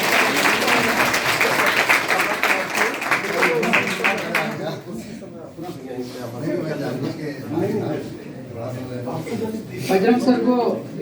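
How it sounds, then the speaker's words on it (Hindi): Students at a school gathering break into loud, dense applause for a visiting guest, which fades after a few seconds as voices and speech take over. "जोरदार ताली के साथ स्वागत करें।"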